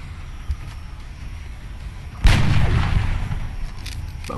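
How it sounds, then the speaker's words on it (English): A weapon fires in the turn-based strategy game XCOM Long War, one loud sudden boom midway that rumbles and fades over the next seconds against a low game background. "Okay, Lacemonian, you have 2 shots"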